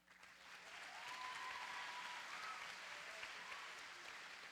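An audience at a homecoming skit night claps for the team in a steady, sustained round of applause. The clapping is dense and even and sounds somewhat distant, with faint voices mixed into it.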